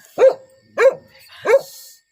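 Three sharp dog barks, evenly spaced and fairly close, with quiet gaps between them.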